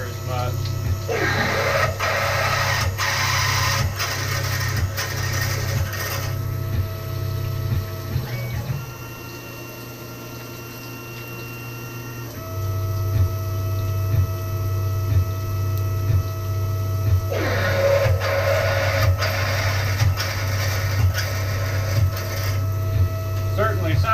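A CNC machine cuts a motor mount for a hydraulic press, producing a loud, steady machining whine with rhythmic pulses. The sound drops to a quieter stretch midway, then resumes.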